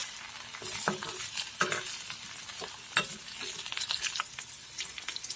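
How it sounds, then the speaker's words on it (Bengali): Potatoes fry in a pan, with steady sizzling and crackling plus occasional stirring clinks and scrapes throughout, close and moderately loud with no talking. "এভাবে সবগুলো আলু ভাজি করে নেব"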